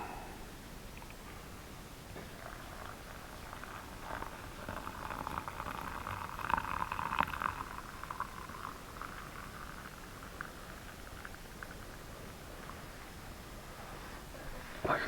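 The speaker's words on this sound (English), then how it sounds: "We'll wait for that to come to a boil." Melted snow water heating toward a boil in a pot for hot chocolate, a soft steady bubbling and hiss that swells in the middle and eases off, with no voices.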